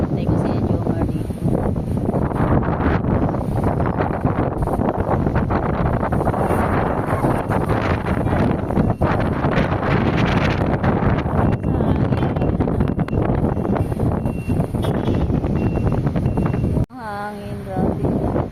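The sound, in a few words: strong wind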